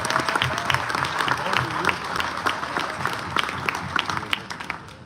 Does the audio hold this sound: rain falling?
no